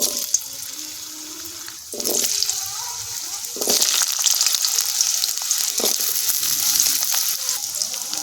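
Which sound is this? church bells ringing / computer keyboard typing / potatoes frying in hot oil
potatoes frying in hot oil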